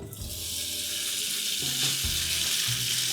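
Steady loud sizzling of noodles frying in hot oil in a pan, a continuous hiss with some faint clinks and low rumbles underneath.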